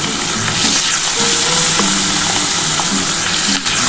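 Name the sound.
rohu fish pieces frying in oil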